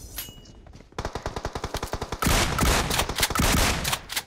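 Gunfire in the mobile battle royale game BGMI during a close shotgun fight, starting with a quiet lead-in, then a rapid run of loud, evenly spaced shots that give way to dense, overlapping blasts and impacts, with no talking.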